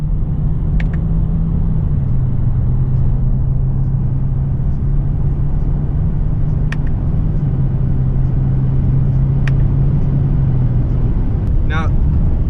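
Mercedes E350 accelerating with manual gear changes: a loud, constant engine drone from inside the car whose pitch steps down at each shift, with a voice speaking over it.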